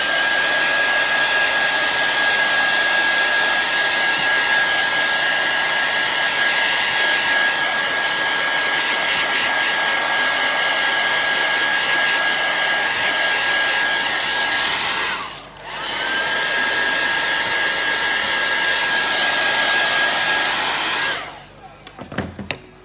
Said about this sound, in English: And I'm gonna use a hairdryer